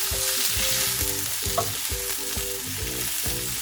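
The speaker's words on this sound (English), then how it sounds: "now let's flip our zucchini around and mix everything up." Zucchini fries in a hot pan and gets flipped and stirred, a loud continuous sizzle with scraping stirs, set against light background music.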